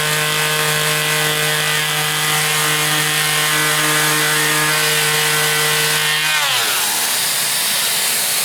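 A random orbital sander with dust suction runs on wood, giving a loud, steady high whine with a constant pitch that winds down as the motor is switched off near the end.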